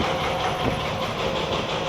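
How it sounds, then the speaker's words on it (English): A train rumbles steadily beneath a rebuilt viaduct bridge, giving a loud, continuous mechanical roar with faint rail clatter and no voices. "You can see where that train's about to go under."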